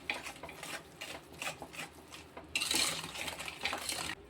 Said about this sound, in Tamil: இதை ரெண்டு மாவுமே நல்லா வந்து கரையிற மாதிரி நம்ம கிண்டிக்கிறோம்